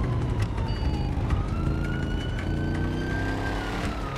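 Police car siren in GTA 5, a steady wailing tone sweeping up and down over a dense rumble of in-game engine and street noise, loud and continuous throughout.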